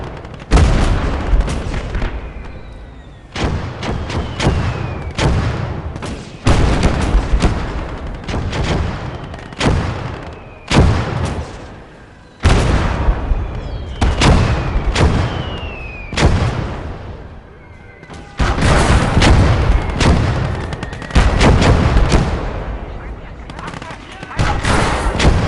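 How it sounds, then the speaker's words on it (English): Heavy anti-tank gun fire in the Gates of Hell: Red Star Rising battlefield game, with a crossfire of two anti-tank guns and an 88, booming over and over with dense gunfire and explosions, loud and close, continuous across the scene. "into a crossfire between 2 anti-tank guns"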